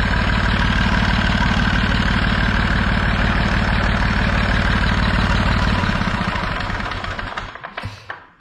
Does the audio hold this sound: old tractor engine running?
yes